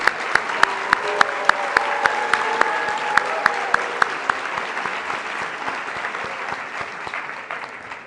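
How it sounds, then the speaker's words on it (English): Sustained applause from an audience at a spring engineering induction ceremony honoring biomedical engineering graduates, steady dense clapping with a few sharp loud claps standing out near the start, slowly thinning toward the end. "let's give a round of applause for our biomedical engineers"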